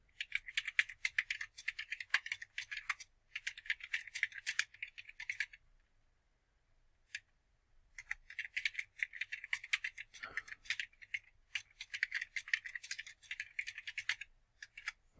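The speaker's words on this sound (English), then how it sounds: "I'm not going to make you guys watch me type." Someone types on a computer keyboard in bursts of rapid clicking, broken by a few short pauses and a lone keystroke, close and moderately loud with no talking.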